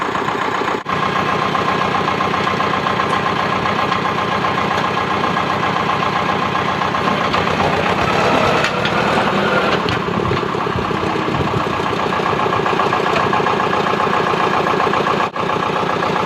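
A Thwaites Tusker dumper engine runs steadily and loudly during a ditch crossing with a bucket full of rocks, a constant close mechanical drone with slight shifts in load and no talking.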